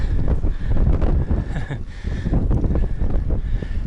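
Strong gusty wind on a mountain in Mongolia buffets the microphone in a continuous, roaring rush with no other clear sounds.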